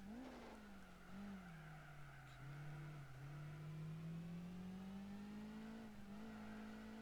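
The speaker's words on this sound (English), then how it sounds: "I swear the exhaust sounds different now." A race car exhaust in the video game Gran Turismo 4 drones steadily, its pitch sliding down then slowly climbing as the engine revs, with a rasping, buzzy tone and no talking.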